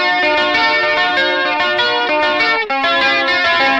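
An electric guitar runs through a cheap lotmusic mini tremolo pedal, playing a short run of notes with a processed, pulsing edge, close and loud with no talk.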